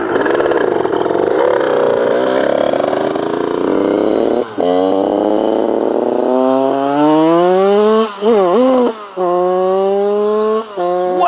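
A Honda HM 100cc supermoto's small single-cylinder engine screams close and loud, revving up in rising whines with sharp throttle blips and brief drops between pulls, with voices faintly underneath.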